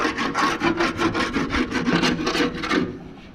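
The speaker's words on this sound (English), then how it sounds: "So basically a lot of scraping." A hand scraper drags across the floor to lift leftover carpet residue, about a dozen quick rhythmic rasping strokes, close and loud, then stopping abruptly.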